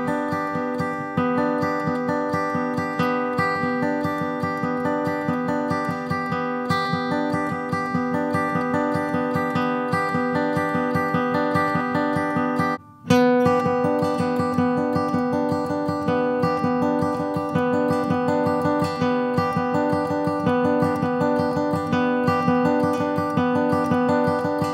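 Plucked strings play a crosspicking sequence in a down-down-up picking pattern, a steady, fast stream of even notes ringing alone with a brief break midway before the pattern resumes.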